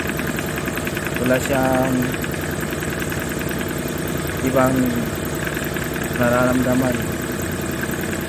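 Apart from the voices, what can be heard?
car engine idling during ignition coil test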